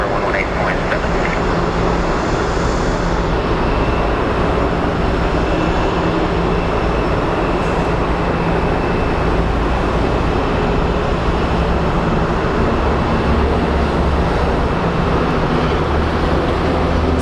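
A jet airliner at Phoenix Sky Harbor Airport begins to roll, its engines giving a continuous loud roar and rumble heard from inside the cabin, with a voice speaking over it at times.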